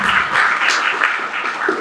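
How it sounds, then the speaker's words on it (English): A crowd at an IMPAC 2025 event in Mpumalanga breaks into a steady round of applause, dense and sustained from start to finish, with no break in the clapping. "Let's give a round of applause."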